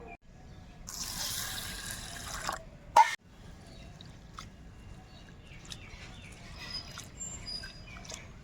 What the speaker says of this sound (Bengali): ডালটা ধুয়ে নেব।